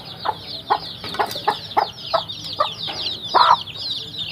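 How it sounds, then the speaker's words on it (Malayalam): Fifteen-day-old native chicks, spotted black-and-white and brown, peep continuously in high chirps, while soft low clucks pulse roughly every half second. The calls are close and fairly loud, with no talking. "ഇതിപ്പോൾ ഏകദേശം 15 ദിവസം പ്രായമായിട്ടുള്ള കോഴിക്കുഞ്ഞുങ്ങളാണ്"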